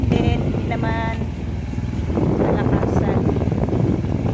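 Wind blowing outdoors makes a heavy, continuous rumble against the microphone, with a voice talking briefly over it.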